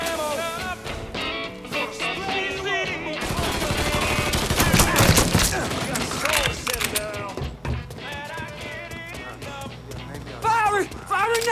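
Gunfire in the Mafia 3 video game: rapid bursts of shots crackle through a dense, loud stretch of combat under excited shouting voices, then thin out into scattered shots.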